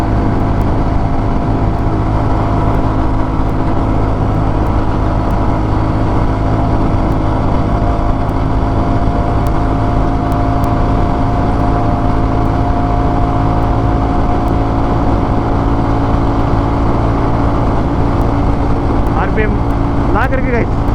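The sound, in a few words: Royal Enfield Classic 350 with modified exhaust, engine stuttering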